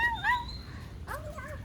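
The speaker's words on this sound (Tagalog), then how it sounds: "Cute ng aso guys." A dog whimpering on a forest walk, a few high, thin whines and squeaks close by, broken into short bursts over outdoor background.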